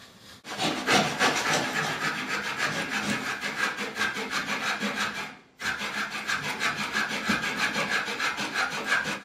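A wing tube on a 50% scale electric Clipped Wing Cub model plane being trimmed with a saw: steady rhythmic rasping strokes, close and loud, with a brief pause midway before the cutting resumes.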